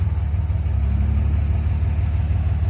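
A 2003 Dodge Ram Cummins diesel runs with a deep, steady low rumble close by while the transmission is shifted through its gears, alone without speech.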